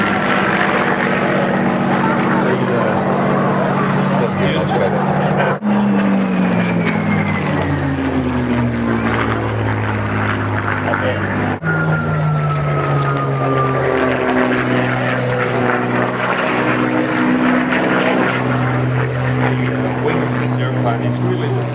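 A propeller aircraft of R.J. Mitchell design flies at the Temora airshow, its loud engine drone rising and falling in pitch as it passes repeatedly, with people talking over it.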